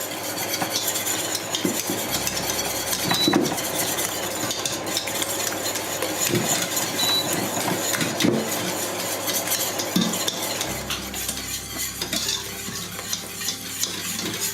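Two eggs are whisked briskly in a bowl, a steady clattering scrape that runs on without pause over a low oven fan hum.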